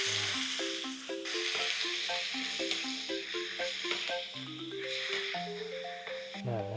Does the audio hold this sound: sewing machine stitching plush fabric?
no